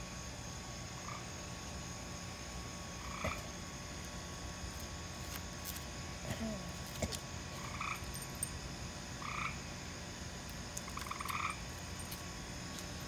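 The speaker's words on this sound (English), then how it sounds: "Is that a frog looking at you?" A frog croaks in short, repeated calls spaced a few seconds apart, fairly close against a quiet background hum.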